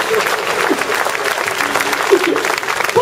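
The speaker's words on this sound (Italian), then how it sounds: "Questo è bello, facciate un applauso" Audience applause at a live comedy show in Casoli, a steady burst of clapping from a crowd lasting a few seconds, fairly close and even.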